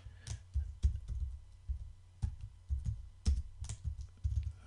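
Bursts of computer keyboard typing as a chat message is entered, with irregular clustered keystrokes and a few sharper key hits, close and fairly quiet with no talk.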